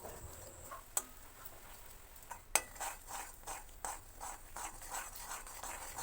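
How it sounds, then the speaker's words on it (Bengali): Sugar is stirred in a pan to caramelize, with faint repeated scraping and light clicks of a spoon against the metal, one sharper tap standing out, close and quiet with no talk. "প্রথমে একটি কড়ায় নিয়ে নিতে হবে পাঁচ থেকে ছ চামচ চিনি এইভাবে চিনিগুলোকে নাড়তে হবে"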